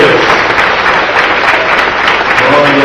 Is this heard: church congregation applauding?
yes